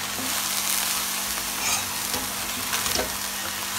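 Egg stir-fried with soy sauce in a pan, a steady close sizzle and hiss with light scraping of the spatula running throughout, no voice.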